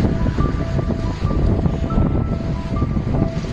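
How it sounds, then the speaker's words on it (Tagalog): A strong wind whips over rough sea at a shoreline fishing spot. The waves keep up a loud, steady roar, and gusts buffet the microphone throughout. "sobrang lakas ng alon. Kaya sobrang lakas ng hangin, kaya maalon"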